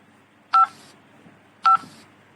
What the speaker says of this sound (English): pressed the green buttons on their time travel phones